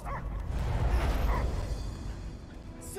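A dog barks inside the Guardians of the Galaxy video game, its yips and woofs set against a dense, steady bed of game sound effects and background noise.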